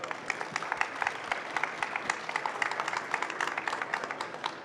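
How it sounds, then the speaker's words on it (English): An audience at a talk on the tyranny of distance applauds two guests, a sustained round of many hands clapping at moderate volume with no talking. "let's give those two gentlemen a round of applause to get started"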